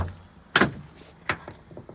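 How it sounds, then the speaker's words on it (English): Door of a 2003 Ford F-250 Super Duty junkyard rescue truck, rebuilt with new metal, being opened: a sharp latch click followed by a second softer clunk, close up with no talk. "And if I open the door,"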